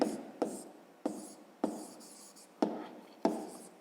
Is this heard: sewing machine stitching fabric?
no